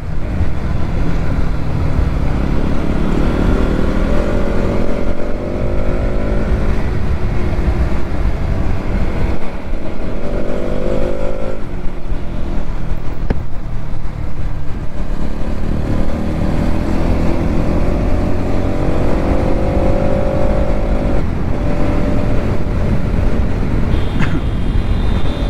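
A Bajaj Pulsar NS 200 motorcycle cruising on a highway, heard as a steady, loud engine drone with wind rush that holds constant throughout, the engine tone rising and falling slightly with speed and no talk over it.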